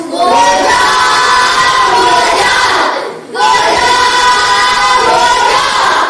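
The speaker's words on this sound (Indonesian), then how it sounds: "Tepuk tangan untuk kelompok 4." A class of students gives a group a loud vocal cheer, a sustained chorus of shouting voices that drops out briefly and then rises again into a second long shout, close and strong in an indoor classroom.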